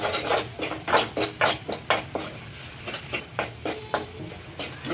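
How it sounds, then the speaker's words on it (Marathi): Pav bhaji masala is stirred and sautéed in a pan, with a spoon scraping and knocking against the metal in quick repeated strokes, close and fairly quiet, with no talk. "हे बघा, चांगलं परतून घ्यायचं।"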